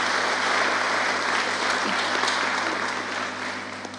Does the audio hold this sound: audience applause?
yes